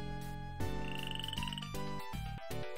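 Frog croaking in the woodlands pond of a museum animal habitats exhibit in the Museum Madness video game, a loud, steady croak over game music throughout.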